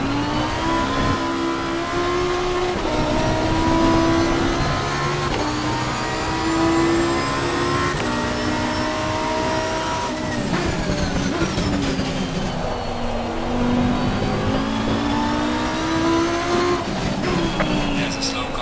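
A Super Trofeo race car engine in a racing game in the rain drones and revs continuously, pitch rising and falling through gear changes, with a voice talking over it throughout.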